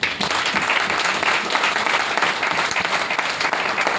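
Steady applause from an audience at a business seminar, dense and sustained throughout at a fairly loud level, with no voice rising above it.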